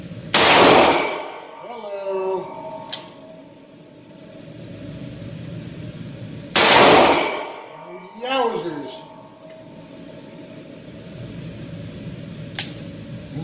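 Ruger GP100 .357 Magnum revolver firing Fiocchi 158-grain rounds at a shooting range. Two loud, sharp shots several seconds apart each ring out and decay, with faint clinks between them.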